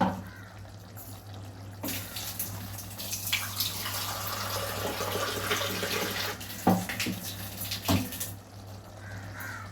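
Water pours steadily into a pot of chicken gravy for several seconds, a broad rushing splash with a couple of brief clunks near the end, over a low steady hum.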